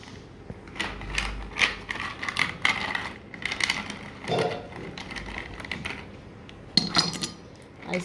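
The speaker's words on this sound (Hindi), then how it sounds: "अब इसको हम ये मटके में पहले इसमें आइस क्यूब डालेंगे हम" Ice cubes dropped into a clay matka pot, giving a string of sharp clinks and rattles with uneven timing, close by and fairly loud, while other kitchen clatter sounds around them.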